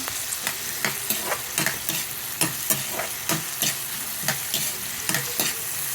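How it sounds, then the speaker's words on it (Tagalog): Tomatoes are sautéed in a hot pan: a constant sizzle of frying under quick, rhythmic scrapes and clacks of a utensil stirring, close up, with no talk. "Gisa-gisa lang po ng konti."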